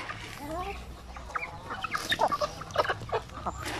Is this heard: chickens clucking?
yes